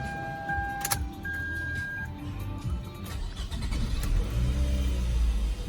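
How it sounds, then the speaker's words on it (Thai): A Toyota Camry 2.4Q engine with about 192,000 km runs steadily at idle, a low continuous rumble that swells slightly toward the end, with a faint high tone near the start. "ดี๋ยวเราฟังเสียงเครื่องนะครับ"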